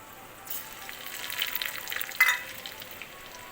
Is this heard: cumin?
yes